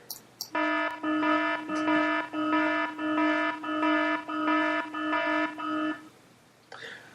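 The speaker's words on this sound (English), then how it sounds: "And we hitting the panic alarm in here." A panic alarm sound effect blares as a steady pulsing electronic tone, about eight regular beeps in quick succession, loud and alone, with brief voices at the start and end.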